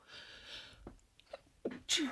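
A single sharp sneeze bursts out at the end, preceded by a quiet inhale and faint background voices.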